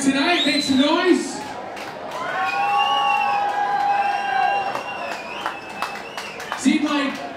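Crowd at a Cage Wars cage fight cheering, whooping and clapping right after a split-decision winner is announced, a loud sustained roar with a few nearby voices rising above it.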